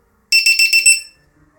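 A LiPo battery voltage alarm plugged into the balance lead of an F750 quadcopter beeps five times in quick, even succession: loud, shrill, close-up pulses with no talking, then silence.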